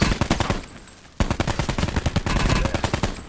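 Rapid automatic gunfire rattles in Call of Duty Black Ops 4 Blackout mode, with loud, close bursts of shots, a brief lull, then another sustained stream of rounds.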